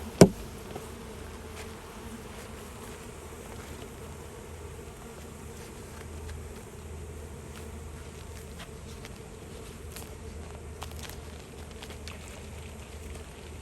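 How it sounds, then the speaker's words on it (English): Honey bees buzz softly and continuously around an open hive during a weekly inspection, a faint, steady drone with a sharp knock at the start. "And now we're going to dispatch these bees in here."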